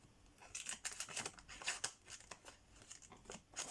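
Scissors snip through a milk carton in a quick, quiet run of crisp cuts with a faint crinkle of the carton between them.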